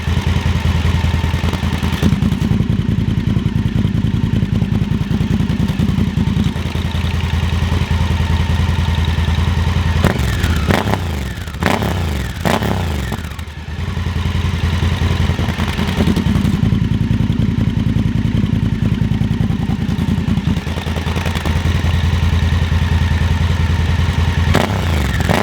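A Honda Africa Twin motorcycle engine fitted with a LeoVince ONE EVO exhaust and spark arrestor idles loudly and steadily nearby, with a few brief blips of revving and clattering midway before settling back to a rumbling idle.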